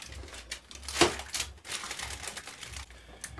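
HDPE plastic being folded over by hand for a pen blank, giving off close, dry crinkling and crackling with one sharp snap, with no voice.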